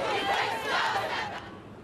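Protesters chant together in a loud, sustained crowd shout at a street demonstration, voices blending into a dense roar that stays steady and close for the whole stretch.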